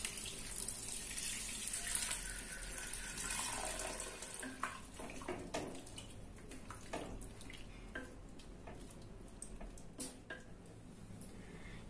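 Water poured into a pot of washed basmati rice for biryani, about four cups added, a steady close splashing stream with small clinks and ticks, no talking.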